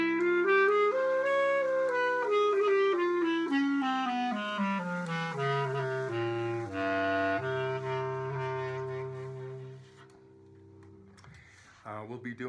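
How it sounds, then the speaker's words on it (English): An alto clarinet plays a flowing melodic line of connected notes that gradually descends in pitch, sounding clear and upfront before fading toward the end. "It's an alto clarinet,"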